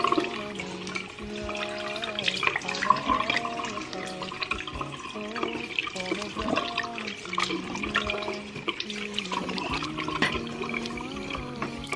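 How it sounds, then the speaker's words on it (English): Running tap water splashing at a sink while a face mask is rinsed off, a continuous close wash with a radio or music playing faintly underneath. "And then I will just wash off the face mask."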